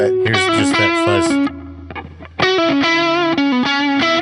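An electric guitar plays through the fuzz setting of a JHS Kilt V2 pedal, thick saturated chords ringing loud and sustained, a brief muted gap, then another fuzzy strummed chord.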